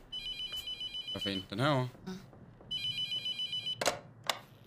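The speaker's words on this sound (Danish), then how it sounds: "Telefonen ringer." A telephone in a horror video game rings in two bursts of quick, pulsing electronic trills, with someone talking between the rings.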